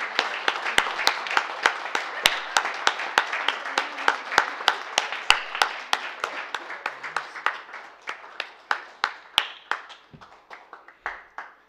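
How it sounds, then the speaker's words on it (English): A small audience at a data artistry tournament finals claps in sparse, distinct individual claps that gradually thin out and fade over about ten seconds. "round of applause, Lawrence"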